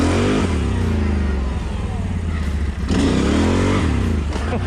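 Can-Am Renegade 1000 XMR ATV on 32-inch Terache Aztex mud tires accelerating hard in high gear: a loud, close engine roar rising in pitch, briefly easing, then climbing again.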